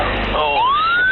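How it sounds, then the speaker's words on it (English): A siren wails at an airport runway as a jet takes off, its rising tone sweeping upward and growing louder over a steady roar of engine and radio chatter, with voices audible underneath. "soon sirens start sounding off, while the aircraft's nose points skyward"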